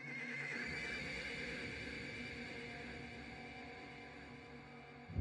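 A gaunt horse in a medieval plague-era setting whinnies in one long, loud, sustained neigh with a faint clatter of hooves beneath, filling the whole moment without any voices.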